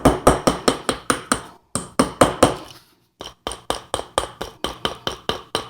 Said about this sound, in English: I'm just going to start hammering.